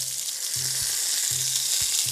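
Loud, close sizzling of fish frying in a hot pan, a constant crackling hiss with a few soft knocks and scrapes of the pan being moved.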